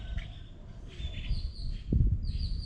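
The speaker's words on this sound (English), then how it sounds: "Sorry about all the birds." Small birds chirp intermittently in an outdoor park during a calisthenics workout, faint high calls scattered over low rumbling background noise, with a brief louder thump near the end.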